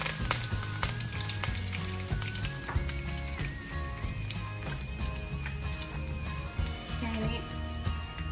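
Curry leaves sizzle loudly in hot oil, a steady bright frying hiss with scattered crackles running throughout, close by.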